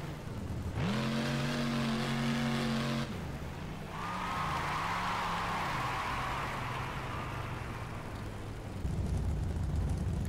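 A monster truck engine in the BeamNG Drive driving simulation revs loudly and continuously, with a steady roaring drone that rises, then wavers in pitch as the throttle shifts, close up with no talk.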